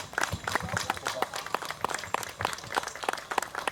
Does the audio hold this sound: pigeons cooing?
no